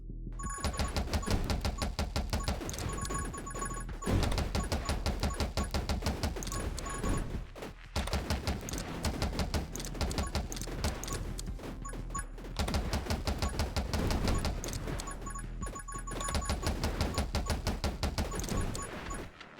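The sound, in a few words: gunfire in the video game 20 Minutes Till Dawn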